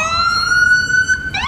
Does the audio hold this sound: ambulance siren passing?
yes